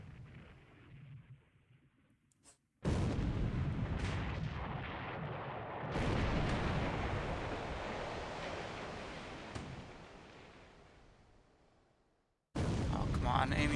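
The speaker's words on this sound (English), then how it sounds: "We're only hitting him with a couple 4-inch guns on the deck" Naval gunfire in a War in the Pacific game battle, 4-inch deck guns firing on a battleship: sustained loud booming, rumbling barrage lasting several seconds, cutting off abruptly then resuming, with a voice talking faintly before it starts.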